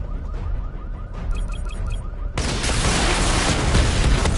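Missile barrage fires in a PS4 video game, a dense roaring burst of rapid explosions that abruptly swells to a loud, sustained blast wall after a quieter stretch of electronic tones.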